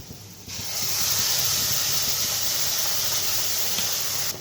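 Poppy seed paste goes into a pan of lightly fried onions, bringing a sudden broad hiss that swells quickly and holds steady and loud, like a continuous spray of steam, before easing slightly at the end.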